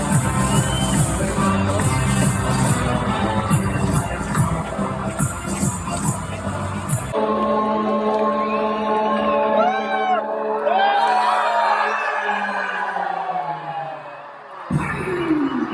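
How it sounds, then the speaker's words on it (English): A large crowd at the Wagah border ceremony between India and Pakistan shouts and cheers in rhythmic chants, loud at first, then thinner with individual voices and whoops rising over a distant roar. "you could hear chanting on both sides of the border, so the Pakistani side and the Indian side"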